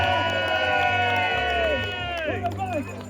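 A crowd gathered in Sandymount for Wren Day singing cheers and whoops, with high children's shouts and a rising and falling whistle-like cry over lively babble, close and loud throughout.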